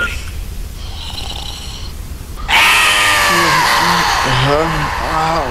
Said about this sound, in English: Thomas' blood-curdling scream came again.